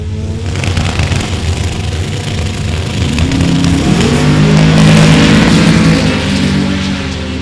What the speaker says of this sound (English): They're both going down the racetrack. Mustang going to get there first.